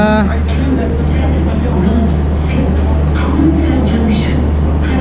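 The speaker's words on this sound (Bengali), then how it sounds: "এই যে তেজস এক্সপ্রেস, এটা" A passing Tejas Express train gives a steady, loud rumble and roar of rolling wheels with a low drone underneath, heard up close the whole time.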